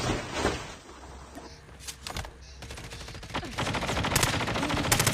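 Automatic gunfire from the video game Call of Duty Mobile during a competitive scrimmage match, with rapid bursts and overlapping volleys of shots running nearly continuously and growing denser toward the end.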